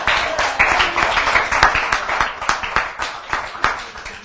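Applause at a Treviso cycling race gathering, a dense crowd clapping steadily with sharp individual claps standing out, loud and close, fading slightly toward the end.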